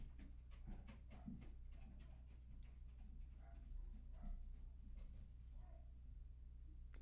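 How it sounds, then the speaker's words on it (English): Dogs panting quietly indoors, a faint, rapid rhythmic huffing that runs steadily throughout with a few soft whimpers mixed in, and no talk. "There's the dogs."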